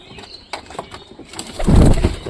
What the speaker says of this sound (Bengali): সব কবুতরগুলো নামছে দেখো।